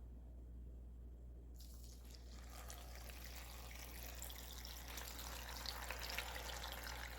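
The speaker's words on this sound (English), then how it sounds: "So we're going to start to add our water." Water pours into a 6-quart slow cooker over chicken bones for broth, starting as a faint trickle and then becoming a steady, quiet rushing pour that continues to the end with no talk.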